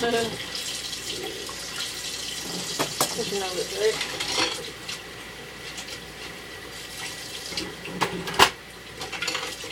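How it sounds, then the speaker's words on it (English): Kitchen tap running over dishes being washed in a sink, a constant splashing stream with clinks and scrapes of crockery, while someone talks intermittently over it. "so doing my dishes, kind of cleaning it up a little bit"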